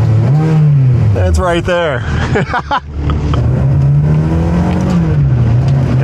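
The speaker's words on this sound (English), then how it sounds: "You rev it here." A Ferrari engine revs in neutral inside the car, a loud sustained close-up drone rising and falling in pitch, with a brief quick blip in the middle while a person speaks over it.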